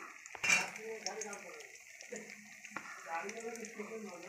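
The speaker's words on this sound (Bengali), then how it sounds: "এই যে ডালের বড়িটা ভেজে নিচ্ছে নিরামিষ তরকারি দেওয়ার জন্য।" Lentil bori fry in a pan for a vegetarian curry, a soft sizzle with a burst of spatter near the start and light clinks and scrapes of a utensil against the pan throughout.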